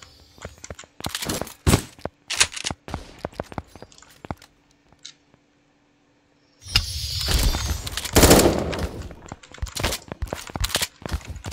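Gunfire in the browser shooter game 1v1.lol, a burst of rapid sharp shots and clicks early on, then a pause and a loud sustained flurry of shots and impacts, with no talk over it.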